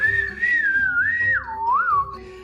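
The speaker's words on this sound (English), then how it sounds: "the unique one-finger whistling system of silbogomero that allows for loud and variable pitch whistling" A single loud, clear Silbo Gomero one-finger whistle glides up and down in pitch, swooping and wavering like speech melody, with faint background noise.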